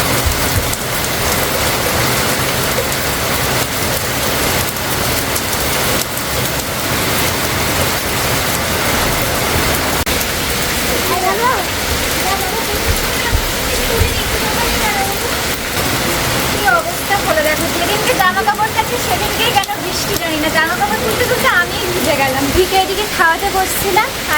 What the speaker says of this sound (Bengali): হঠাৎ করে দেখো কেমন বৃষ্টিটা নামলো